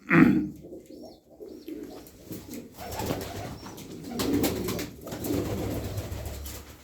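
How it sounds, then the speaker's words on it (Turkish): Soft pigeon cooing in an outdoor setting, low repeated murmuring calls with a throat-clearing sound near the start and steady background noise. "Bakın kuşlara."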